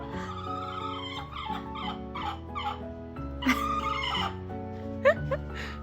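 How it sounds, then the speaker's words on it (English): Indoor chickens clucking and squawking close by, a run of short repeated clucks with a few louder sharp calls, lasting several seconds with no talking. "Now the other chicken's gonna get involved."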